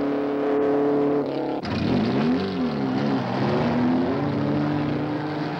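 A BMC Mini Cooper racing car lapping Bathurst in 1966 roars past loud and close, its engine note sweeping in pitch as it passes, a continuous revving drone with no talking.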